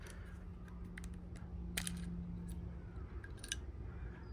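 A hand rivet gun squeezes a rivet with a few sharp metallic clicks and snaps over a quiet low hum, the loudest crack near the middle.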